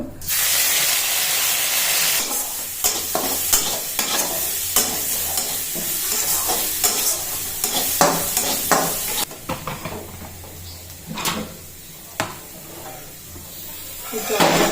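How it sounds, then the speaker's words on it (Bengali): Moong dal frying in a pan gives a steady, loud sizzle with repeated stirring scrapes and clicks, and a voice talks intermittently over the cooking. "এখন আমি ডালটা মুগ ডালটা ভেজে নেব"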